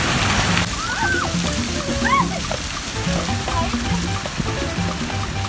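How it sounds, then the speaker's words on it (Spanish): Spraying and splashing water from the Coppelia park fountain in Santiago de Cuba, a steady watery hiss beneath lively people talking, with children's voices and bird-like chirps nearby. "vamos a pasar ahora por la fuente del Copelia, pero es como un parque de diversiones, como un parque de agua"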